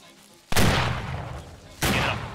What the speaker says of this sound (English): you should feel fire into him, fire into him